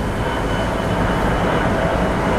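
Special steam locomotive train 901 rumbles past Lak Si railway station in Thailand, a dense, continuous roar of rolling wheels and carriages close by, steady and unbroken.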